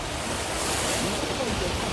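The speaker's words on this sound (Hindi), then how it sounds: "स्विमिंग पूल में खौफनाक लहरें उठ रही हैं।" Water surges and sloshes in a rooftop swimming pool shaken by the Myanmar earthquake, a loud, continuous rushing wash like surf with no pause.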